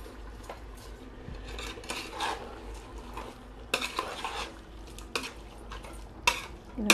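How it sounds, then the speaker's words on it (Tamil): Chicken biryani being mixed with rock salt in a pot, close scraping and clinking of a ladle against metal in irregular strokes over a low background hiss, with no speech. "இதை நல்லா மிக்ஸ் பண்ணி விட்டுக்கோங்க."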